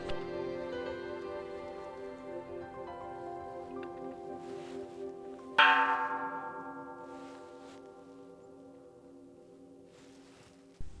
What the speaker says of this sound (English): There is also a bell you can ring for good luck.